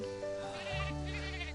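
A goat bleats in the farming and baking video game Baker's Life, a clear wavering cry over a steady game background, alone without talk.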